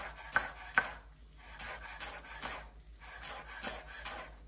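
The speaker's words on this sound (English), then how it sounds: "And then I take and I roughly chop, just like this" A knife roughly chopping a handful of coriander on a board for tomato saar, a series of close, crisp thuds and rubbing scrapes in uneven bursts, no talk.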